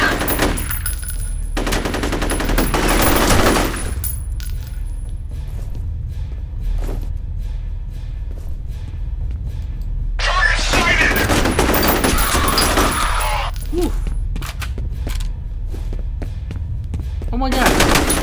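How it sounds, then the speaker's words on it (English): Bursts of automatic machine gun fire in the F.E.A.R. first-person shooter, loud and close, arriving in several sustained volleys separated by quieter stretches of game ambience. "I'm taking fire!"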